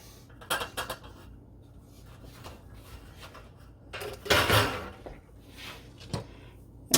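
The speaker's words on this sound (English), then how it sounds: "I'm going to see about getting these out by just basically flipping this." A muffin pan of cornbread muffins turned over onto a rack, a few metallic clanks and knocks followed by a louder clatter and rattle of pan against rack, then a final sharp knock.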